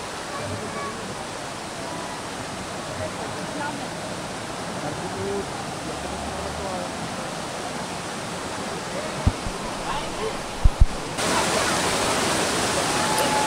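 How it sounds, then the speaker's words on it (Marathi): A monsoon waterfall at Tamhini Ghat roars as a steady, broadband wash of falling water, loud and unbroken throughout, with a couple of brief knocks near the end. "अँड हा आहे आपला धबधबा."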